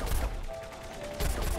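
Gunfire in Plants vs Zombies Garden Warfare 2 crackles in quick bursts, loud and close, with rapid shots at the start and again near the end.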